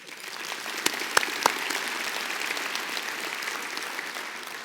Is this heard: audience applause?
yes